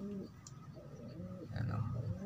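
A pigeon coos softly nearby in short repeated phrases, faint and close, with a person speaking quietly between calls.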